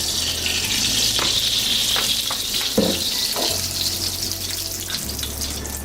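Food frying in a little oil in a pan, a steady close sizzle running throughout with a few soft clinks and stirring sounds, and a low background hum that shifts partway through.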